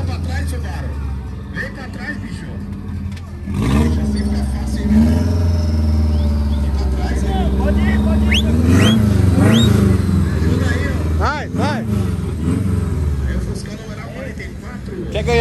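A turbocharged 4.1-litre six-cylinder car launches at a drag race, a loud engine revving and building as it accelerates, with an announcer talking over it in Portuguese.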